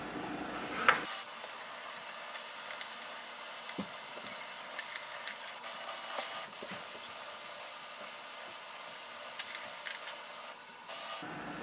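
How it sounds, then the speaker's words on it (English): An HP DeskJet 4122e printer scanning pages, a steady mechanical hiss and whir from the scanner carriage with scattered small ticks and clicks, running continuously at close range before stopping near the end. "So it has scanned both the pages."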